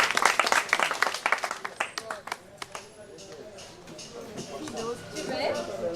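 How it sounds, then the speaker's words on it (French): Audience at a cultural day and gift-giving event claps for about two seconds, a short burst of separate hand claps that quickly fades, after which voices talk over a murmuring room. "on va applaudir pour Daniel"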